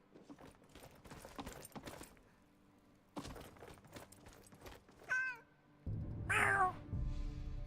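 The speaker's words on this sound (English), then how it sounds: "Freaking cats." Cats meowing in Skyrim with the Lorerim modlist: two distinct meows near the end, the second louder and drawn out, after stretches of soft clattering and clicking game sounds.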